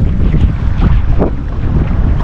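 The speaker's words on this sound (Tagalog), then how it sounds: "Ay, kalakas ng hangin." Strong wind buffets the microphone outdoors on the water during mud crab catching, a loud, continuous roaring rumble with gusty surges and no talking.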